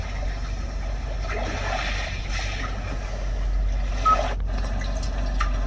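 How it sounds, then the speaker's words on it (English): Sea wave nature sounds played through the sound system of a 2021 Hyundai Elantra, a soft continuous wash of surf over a low cabin hum, steady and fairly quiet, with a brief click near the end. "chirp. Sea waves."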